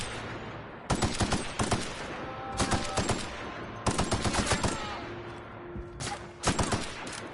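Hunting rifle gunfire in the video game The Outer Worlds, rapid bursts of sharp shots in four clustered volleys separated by brief pauses, loud and close with no talking.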